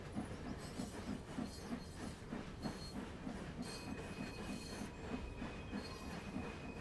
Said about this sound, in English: This is not an American steam train. This is a British steam train.